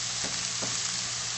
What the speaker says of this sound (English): now that those last few pieces are cooking